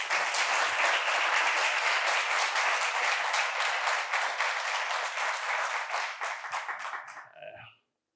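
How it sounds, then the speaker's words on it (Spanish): Loud, dense audience applause welcoming guest Ramón Tamames at a local history event in Alhaurín de la Torre, sustained for about seven seconds before thinning out and stopping abruptly. "le damos un fuerte aplauso para comenzar"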